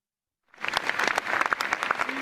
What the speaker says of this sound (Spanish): Con este aplauso en la parisina Plaza de la República